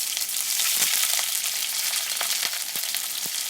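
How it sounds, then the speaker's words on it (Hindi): Onions lightly frying in ghee for a degi-style chicken korma, a bright continuous close sizzle with occasional crackling pops and stirring, no speech. "प्याज की लाइटली थोड़ी सी बुनाई कर लेंगे।"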